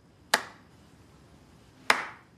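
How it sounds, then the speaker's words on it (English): Two slow, deliberate hand claps in Grand Theft Auto, crisp and close, spaced well over a second apart over a quiet background hum. "Are you slow clapping your own speech?"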